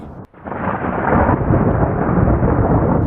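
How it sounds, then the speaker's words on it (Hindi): In an animated cartoon, after a brief sharp crack, thunder rolls in as a loud, sustained, deep rumble that fills the space without letting up. "आसमान पर बादल गरज रहा था।"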